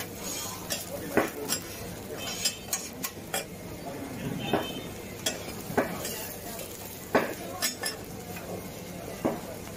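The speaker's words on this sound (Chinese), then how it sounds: "把两面翻过来，煎得焦黄。" An oyster omelette fries on a pan at a Xiamen street stall, a constant sizzle broken by regular sharp spatula clicks and scrapes against the metal, with faint talk in the background.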